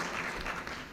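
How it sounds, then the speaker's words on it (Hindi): Dense, steady applause from a mushaira poetry gathering audience in Lucknow, a continuous wash of many hands clapping with no voices over it. "एक बार आप लोग जोरदार तालियों से आप दोबारा इस्तकबाल करें"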